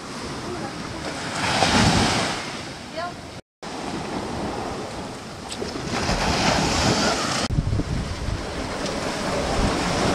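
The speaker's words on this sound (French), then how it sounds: "Pas mal de vent. Et la mer est agitée." Strong wind buffets the microphone over the roar of rough, choppy sea between Marie-Galante and Les Saintes, with waves washing and splashing loudly throughout.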